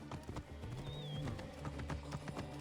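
Horse hooves clip-clop steadily in Assassin's Creed Origins, a close rhythmic clatter joined by a brief whinny, with faint game ambience underneath.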